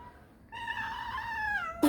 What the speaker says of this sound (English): Bieber, this is Malay's cat.